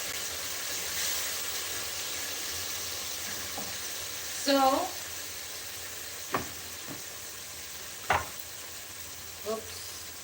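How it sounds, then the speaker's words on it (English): Quiet, steady sizzling of purple onion and tomato frying in a pan, with a few soft clinks of utensils and a brief word spoken. "You can hear the sizzling"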